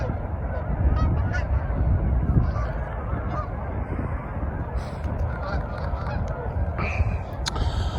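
Geese honk continuously as flocks fly in at dusk, a dense outdoor chorus of many overlapping calls under steady background noise.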